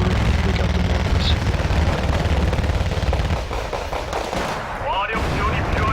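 Artillery and mortar fire rumbles through a Wargame Red Dragon battle, a dense continuous barrage of booms and rattling shots overlapping loudly, with a whistling sweep near the end.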